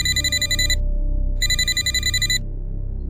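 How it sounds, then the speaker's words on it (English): A telephone rings in two loud, even bursts separated by a short gap, each a bright electronic trill over a low background hum. "That's when my phone rang again."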